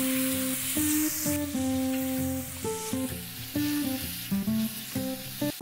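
Chicken pieces hit a hot pan with whole spices (black pepper, cloves, black and green cardamom, bay leaf) for Mughlai handi, giving a steady close sizzle under clattering tonal stirring and music-like tones throughout.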